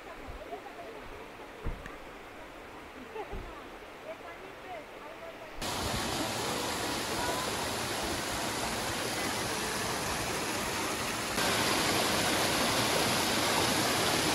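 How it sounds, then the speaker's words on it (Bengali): Rushing water from a waterfall and stream at Cherrapunji, a steady broadband roar that grows suddenly louder midway as the listener moves closer to the falls, with faint earlier background sounds before the surge. "এখানে কিন্তু পানির শব্দ শুনতে পাচ্ছেন আপনারা।"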